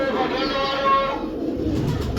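Pigeons in a fancier's loft, including a stone-eyed hen, give soft close cooing under a man's speech, with a brief burst of wing flutter near the end.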